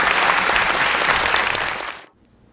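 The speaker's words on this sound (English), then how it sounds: "Give him, please, another round of applause." A round of applause from an audience at a video conference on celestial art, honouring a journalist, with dense, steady clapping that cuts off abruptly near the end, leaving near silence.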